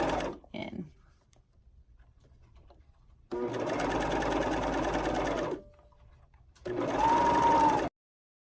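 A sewing machine zigzag-stitches elastic onto bikini bottoms in two bursts of steady, close whirring. Each burst lasts a couple of seconds, with quiet pauses between them and brief handling noise at the start.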